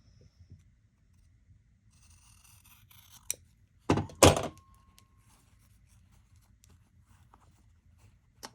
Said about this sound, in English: I'll use my shears to just snip the seam allowance here.